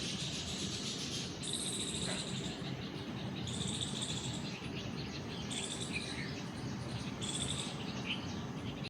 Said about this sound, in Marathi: चिमण्यांचा इतका घोंगाट वाजत होता,